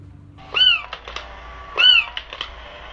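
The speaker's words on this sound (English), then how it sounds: "Kitty overboard." A cat gives two drawn-out meows about a second apart, with faint clicks and light rustling between them and a quiet background.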